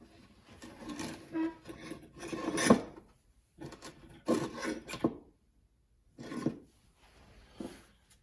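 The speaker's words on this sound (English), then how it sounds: "now you can grind your rakers with your stone" A raker stone on a bench grinder works the rakers of a chainsaw chain, giving rough rasping grinds in short bursts separated by pauses, close and moderately loud.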